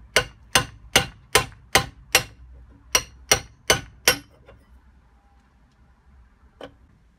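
Chisels hammered against a rusted, stuck jib key on a pillow block bearing shaft: two quick runs of sharp metallic hammer strikes, five then four, evenly spaced and ringing, followed by one lighter tap.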